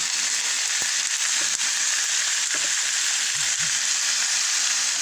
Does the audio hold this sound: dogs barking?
no